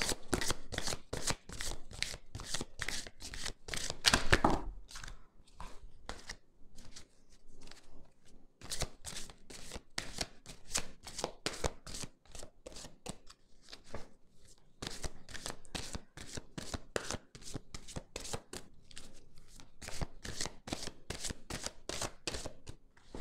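Tarot cards being shuffled and riffled in a long, steady run of crisp, rapid flutters and snaps, with a brief denser burst near the start and a few short pauses, close and clear without any talking.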